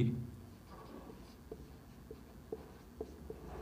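A pen writes out the given values of a frustum maths problem on paper, a faint series of short scratching strokes at a loose, uneven pace in a quiet room.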